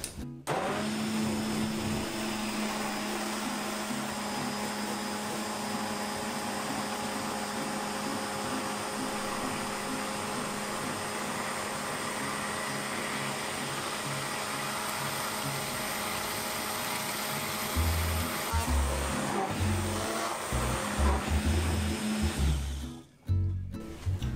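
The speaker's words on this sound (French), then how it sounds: "Là, je vais mixer en partant du fond et je vais monter au fur et à mesure, tout doucement, jusqu'à incorporer toute l'huile." An immersion blender whirs steadily in a vinaigrette, working up from the bottom to emulsify the oil with mustard, a continuous close motor drone that shifts and rumbles near the end as the blender is moved.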